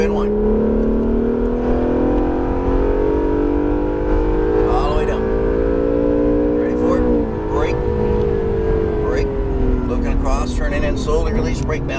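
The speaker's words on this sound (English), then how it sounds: "Let's accelerate as we unwind." An Acura NSX accelerating on a race track, its engine note rising steadily and revving hard with a brief dip around a gear change, loud and close, while someone talks over it.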